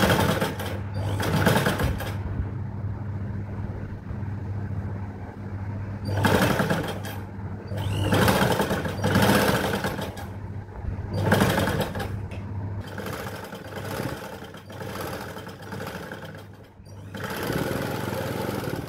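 A sewing machine stitches a pleated puff sleeve for a blouse. Several loud, fast, steady whirring bursts of a few seconds each are broken by short pauses, with a low hum running throughout.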